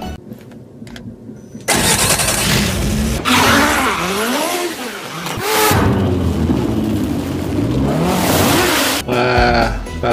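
A toy car's engine sound starts abruptly after a quiet moment, then revs loud and close in repeated rising and falling sweeps, briefly dropping out before one more burst at the end.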